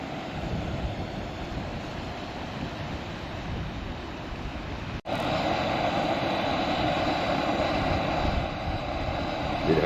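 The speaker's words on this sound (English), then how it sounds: "In these jet boils, that flame comes straight up out of the center of the bottom." A Jetboil camping stove burner roars steadily as it heats water, a dense close-up rushing hiss that cuts out for an instant midway and then returns slightly louder.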